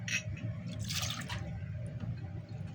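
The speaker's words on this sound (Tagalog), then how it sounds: "Dito tayo kukuha ng tubig." Water is drawn for cooking chicken in coconut milk, with faint drips and a short splashy trickle near the start and middle over a low background hum, quiet and close.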